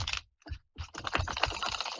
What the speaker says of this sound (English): Shuffle this deck one more time.